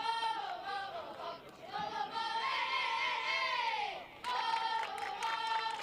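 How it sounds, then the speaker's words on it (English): A high school softball team cheers and sings a chant in the dugout, voices in rhythmic melodic unison, fairly close and sustained with a short pause before the singing resumes. "You can hear him cheering and singing "To My Right.""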